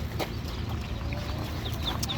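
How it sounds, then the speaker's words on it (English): Chickens at a busy outdoor swap meet cluck intermittently over a dense, steady crowd and vendor hubbub, with a few brief high chirps. "Look at these chickens, guys."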